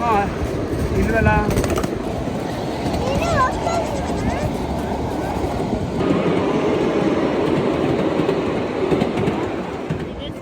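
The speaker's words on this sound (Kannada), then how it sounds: "ಇದೇ ಸೌಂಡ್ ಹೌದು. Train sound." A battery-operated mini train on the Trecothic Creek & Windsor Railway rumbles along its track with a continuous clatter and brief squeals, close by, while people talk over it.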